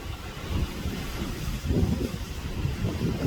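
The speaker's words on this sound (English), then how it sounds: "It's pretty windy out here." Strong wind buffets the microphone on a cruise ship balcony at sea in steady low rumbling gusts, with a faint wash of sea beneath and no voices.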